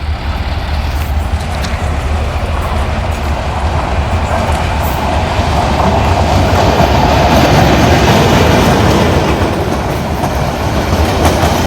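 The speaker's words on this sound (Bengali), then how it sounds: "ততক্ষণে দেখছি আরও একটা ট্রেন এসে পড়েছে" A train rolls past along a railway line, its steady rumble and clickety-clack of wheels on rails staying loud and continuous throughout, with no voices heard.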